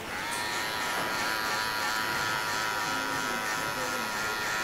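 An electric hair clipper buzzes steadily and close by while giving a zero-cut buzz haircut, a continuous even hum with no break.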